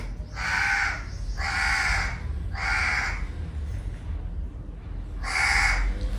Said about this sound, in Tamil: இந்த காக்கா கத்துறது